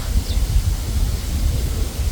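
Wind gusting outdoors while foraging for a red ant nest, a steady low buffeting rumble against the microphone throughout, with no talking.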